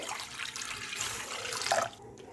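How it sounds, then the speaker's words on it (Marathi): Two glasses of water splash and trickle into a kadhai in a kitchen, a soft, close, continuous pour lasting a couple of seconds and ending abruptly, with no voices. "आता मी एका कढईत दोन ग्लास पाणी घेत आहे"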